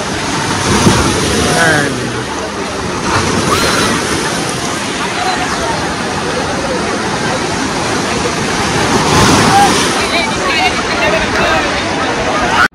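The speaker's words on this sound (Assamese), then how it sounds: "এই আকৌ জোৰে ঢৌ আহিছে এটা।" Strong sea waves crash and surge onto Digha beach in a loud, close, unbroken roar of churning water, with voices of people standing in the surf.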